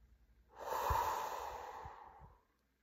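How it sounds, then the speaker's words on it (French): A strong, forceful exhale during a breathing exercise, one long breathy rush of air that swells and then fades away, close and alone. "Soufflez fortement pour vous dynamiser."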